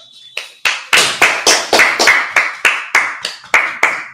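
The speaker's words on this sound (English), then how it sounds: "Clap it up." A group claps hands together during a Sabbath service, about a dozen sharp, fairly even claps in a steady rhythm, close and loud with no talking.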